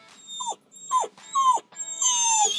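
A dog whimpers at a dog park in four high, sliding whines, each dropping in pitch, the last one drawn out longest; close and fairly loud, with no talking.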